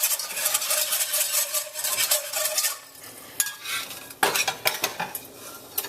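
Roux whisked into heavy cream in a pot, busy metallic whisk strokes rattling and scraping against the pot, close and loud, shifting in pace partway through, with no voices.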